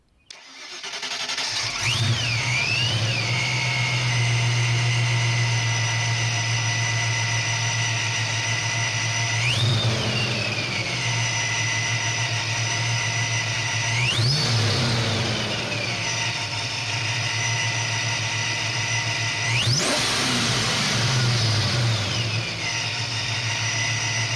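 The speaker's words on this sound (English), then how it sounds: "We were ready to fire up the engine and hear the Vortech Heritage Supercharger sing." A supercharged V8 in a Fox-body Mustang with a Vortech supercharger cranks and fires up, settling into a loud steady idle, then three sharp revs rise and fall back, with a high supercharger whine.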